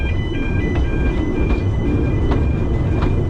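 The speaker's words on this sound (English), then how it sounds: "The line crossed an active road with a rather odd-sounding crossing signal." An odd-sounding road crossing signal on the Talyllyn heritage railway in Wales, at a crossing with an active road: steady high electronic tones ring continuously over a loud, low rumble and rhythmic clatter of the train.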